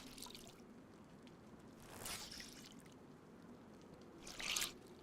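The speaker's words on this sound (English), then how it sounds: "I guess we can wring out my clothes." Wet clothes get wrung out, giving a couple of soft squishing, dripping bursts of water spaced a few seconds apart, quiet and close with no talking.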